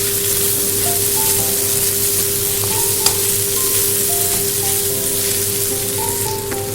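Peas being stirred into fresh chhana that is frying in a pan, making a loud, unbroken hiss of sizzling with faint tonal background sound.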